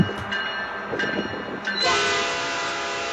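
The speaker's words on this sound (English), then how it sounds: "That's a loud horn." A loud freight train horn blares in long sustained blasts over the rumble of the passing train, close to the trackside with no talking.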